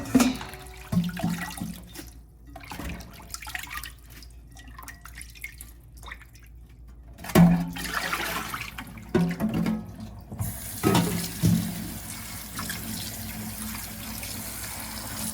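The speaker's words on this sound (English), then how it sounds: "Then we just give a little bit of rinse." Bok choy is rinsed under running tap water in a kitchen sink, with steady splashing and trickling broken by clattering handling noises, close and moderately loud, with no speech.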